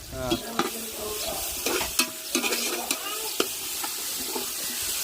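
Ginger garlic paste frying in a pan for chicken biryani, stirred with repeated sharp spatula scrapes and clinks over a steady sizzle.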